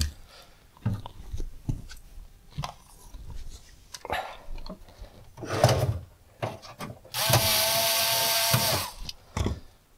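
Screwing a chassis ground lead from the metal frame of a monitor into the power supply in a Jaleco Low Pro Cabaret arcade cabinet, heard as close scraping and rasping turns with knocks, ending in a sustained loud grinding burst.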